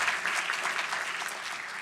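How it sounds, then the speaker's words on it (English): An audience at the ASC 2018 Sutherland Address applauds, a dense, steady clapping from a large crowd, loud and sustained throughout. "Can we actually just give a round of applause to all those folks?"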